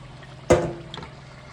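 Chicken pieces dropped into a pan of simmering gravy, a single sharp splash and sizzle followed by a fading bubbling hiss, close and fairly quiet.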